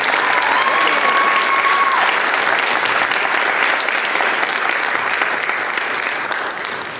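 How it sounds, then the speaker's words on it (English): A school concert audience gives Mr. Nick Irvin a round of applause. The clapping is loud, dense and sustained, with a short whistle near the start, and it tapers slightly toward the end. "So if we could please give Mr. Nick Irvin a round of applause."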